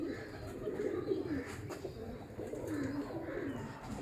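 Standard-size pigeons coo softly nearby in a repeated, rolling rhythm against a quiet background hiss, with no talking.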